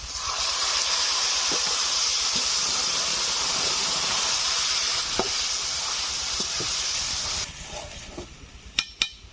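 Onions fry loudly in a pan with a strong, steady hiss as lentils and taro stolons go in, with scattered soft taps along the way; the sizzle drops abruptly near the end, leaving a few sharp clicks.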